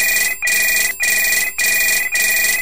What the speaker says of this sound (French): Monsieur Lafleur, téléphone!